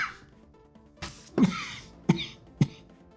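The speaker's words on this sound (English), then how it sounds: "I just got a little cough there." Three short, rough coughs from a person with a lingering cold, close and fairly soft, spaced apart and preceded by a faint throat sound.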